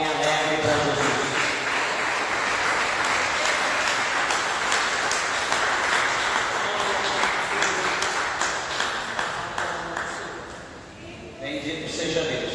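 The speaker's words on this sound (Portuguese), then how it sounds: "dê uma salva de palmas bem alegre para Jesus" A church congregation gives joyful applause for Jesus, a dense, steady wash of many hands clapping that fills the room for about ten seconds before thinning out, with voices mixed in.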